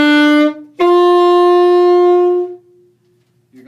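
A saxophone plays sustained clear notes, a short first tone then a long held one that fades out, with near silence afterward and a faint new attack at the very end.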